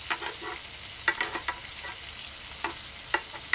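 Butter and garlic sizzle steadily around a ribeye steak as it is basted in the pan, with a continuous hiss broken by a few sharp spoon-scrape clicks and spatters, close and alone.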